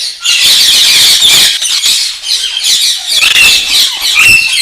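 Parrots in a breeding aviary, among them cobalt and creamino birds, keep up a loud, harsh, overlapping squawking that barely lets up from start to finish.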